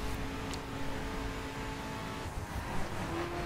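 A BMW M5 in The Crew spinning its wheels under hard acceleration: a steady, dense engine roar with a sustained tonal whine, loud and unbroken throughout.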